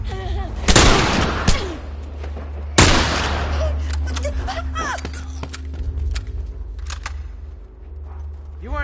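Rifle shots in The Last of Us: two loud, sharp cracks a couple of seconds apart, followed by clicks, rustling and scattered lighter game noises over a steady low hum.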